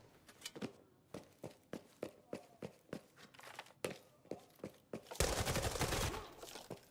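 Sharp gunshots from an Arena Breakout Infinite match ring out one at a time in a steady string of about a dozen reports, then give way to a dense, sustained burst of noise near the end.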